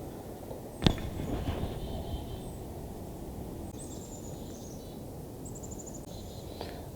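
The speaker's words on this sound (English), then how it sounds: "I don't know if you can hear all the birds chirping in the background." Birds chirping outdoors in the distance, a few faint thin high calls over a low steady background rumble, with one sharp knock near the start.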